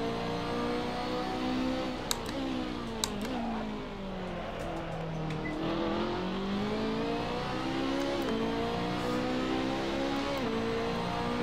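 BMW race car at Laguna Seca in Assetto Corsa, engine droning loudly with repeated pitch drops as it downshifts, then climbing again under acceleration, with a couple of sharp clicks, no talk.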